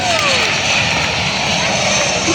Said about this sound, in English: the aircraft watching is the Boeing 737 from Mango Airlines